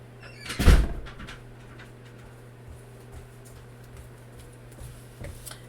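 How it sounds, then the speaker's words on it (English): A door shuts with a single firm thud near the start, followed by a few faint ticks and soft knocks in a quiet room. "Sorry, I had to close the door."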